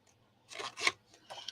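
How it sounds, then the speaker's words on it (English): Scissors snip through paper along a score line, several short close rasping cuts coming in quick bursts with small gaps between them and no talking. "So I'm going to snip up to where that score line intersects."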